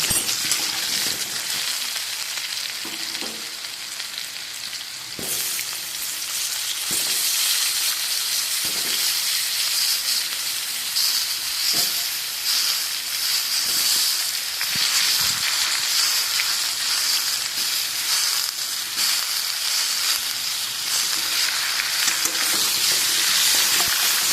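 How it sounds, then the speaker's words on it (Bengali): Loud, steady hiss of pumpkin and potato frying together in a pan with turmeric, with occasional soft knocks and stirs, continuous throughout with no talking. "আলুর কুমড়োটা আমি একসাথে ভেজে নেব।"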